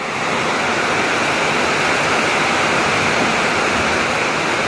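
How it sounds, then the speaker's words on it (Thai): A summer storm brings heavy rain down near a noodle shop in Thailand, producing a loud, steady, full roar of falling water without any break. "พายุฤดูร้อนเข้าครับ"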